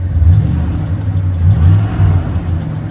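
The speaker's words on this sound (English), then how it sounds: "This truck sounds good." An LT1 engine in a 1975 Oldsmobile Delta 88 runs close by, a low throaty rumble that swells and eases in several short revs over a few seconds.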